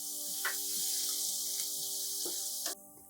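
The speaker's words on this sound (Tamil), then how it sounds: "இப்போ நல்லா வந்து டீப் ஃப்ரை ஆக ஆரம்பிச்சிச்சு." Steady, bright sizzling of garlic deep-frying in hot oil, continuous and close, with a few soft stirring clanks before it cuts off abruptly.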